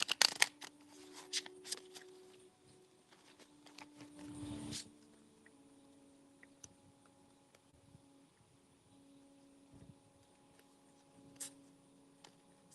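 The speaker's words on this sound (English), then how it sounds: "I will be shuffling my activity and oracle cards and get our messages." Activity and oracle cards being shuffled during a live session, giving a few faint papery riffles and taps early on, then long quiet stretches with occasional soft clicks.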